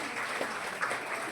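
A congregation applauding inside a church during a special festival mass, a short burst of steady, moderately distant clapping.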